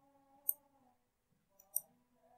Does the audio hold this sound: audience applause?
no